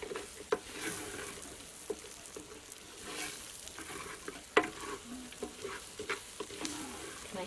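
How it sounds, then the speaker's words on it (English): Rice and meat being stirred together with spices for Kenyan pilau in a pot: a steady sizzle with scraping stirs and occasional sharper clinks of the spoon, close and alone. "I'm going to stir so that the rice and the meat are well mixed with all the spices"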